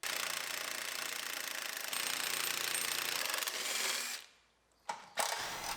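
Power tool working loose the motor mount bolts on a GMC Yukon during a frame swap, a harsh rapid hammering rattle running steadily for about four seconds, then a pause and two short sharp bursts close by.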